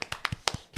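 Hand clapping in a podcast studio, a quick run of about seven quiet, close, uneven claps in under a second.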